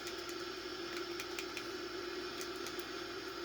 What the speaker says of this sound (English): So this is the initial climb of the aircraft.